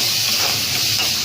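Onions, tomatoes and curry leaves sauté together in a pan, giving a steady, loud hiss and sizzle that runs evenly throughout with no talk.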